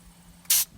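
Rust proofing bursts from a spray wand with holes along its length and at the tip, one short loud hiss lasting under a quarter second.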